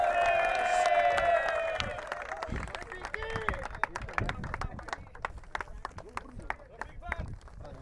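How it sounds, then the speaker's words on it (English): A crowd at a cricket grand final presentation breaks into steady, dense applause after a voice speaks briefly, the clapping continuing near and fairly loud to the end. "Give them a round of applause"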